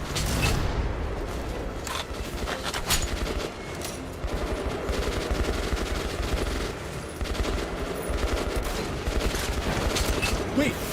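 Dense, continuous video game gunfire with rapid automatic bursts and booms fills the scene, steady and loud throughout, with a voice occasionally talking over it.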